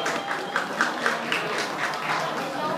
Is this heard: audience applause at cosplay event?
yes